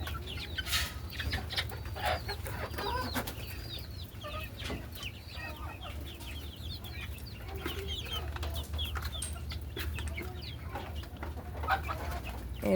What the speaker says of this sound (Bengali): ওরা সম্পূর্ণ দেশি মুরগি, কোনো ভেজাল নেই।